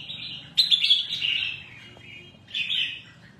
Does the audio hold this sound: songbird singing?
yes